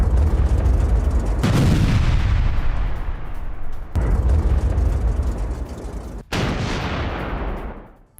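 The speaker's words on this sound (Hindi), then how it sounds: "यूक्रेनी हमलों से जोरदार धमाका।" Three loud, booming blasts from Ukrainian drone strikes on Russia, around the 1.5, 4 and 6.3 second marks, each followed by a long rumbling decay, with no speech between them.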